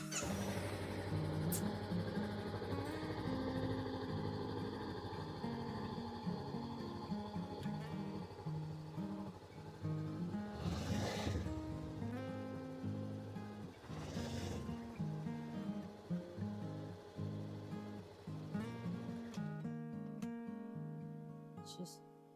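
A Honda CBR 400R twin-cylinder motorcycle engine idles steadily and close by, a smooth continuous hum that carries throughout with small rises in revs.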